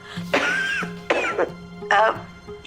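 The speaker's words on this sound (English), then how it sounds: "I heard somebody cough." Three distinct coughs, close by and fairly loud, each a short harsh burst separated by brief pauses.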